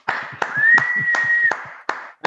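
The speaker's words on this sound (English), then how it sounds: "let's give them some applause then" A few slow, evenly spaced hand claps from an audience at a hackathon demo day ring out close by, over a faint steady tone.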